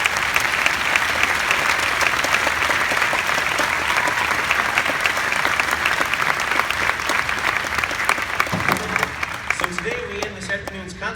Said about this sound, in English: Let's give these fine young folks one more big round of applause.